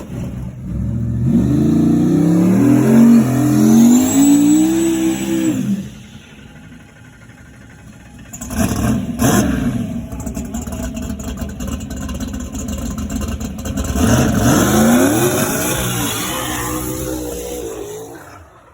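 No-prep drag race cars roar down a track at an outdoor event, loud engines rising in pitch as they accelerate away. One pass fades out and a second car's engine builds and sweeps past, strong and close.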